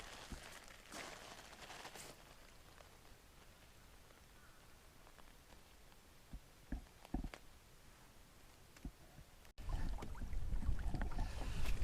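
Wind rushes across the microphone as a canoe sets off on the North Fork White River, with scattered knocks and splashes, then the wind noise surges louder toward the end.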